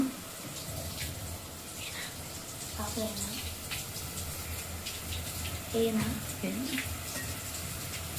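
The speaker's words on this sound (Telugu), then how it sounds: "ఫ్రెష్ చికెన్ వాష్ చేయడానికి ఇప్పుడే వేస్తాను" Tap water runs steadily with a broad, hissing splash while fresh chicken is washed in a kitchen, continuous and fairly close, with faint traces of a voice underneath.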